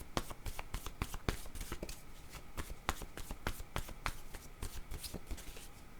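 Playing cards being shuffled close up, with a quick run of crisp riffling snaps and taps in an irregular rhythm, soft and alone without talk.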